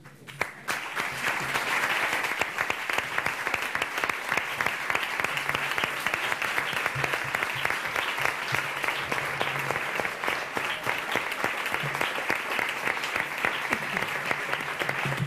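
Audience applause at a university graduation and academic-year opening ceremony in Ibiza, a dense, sustained clapping that swells within the first second and carries on loudly and evenly to the end.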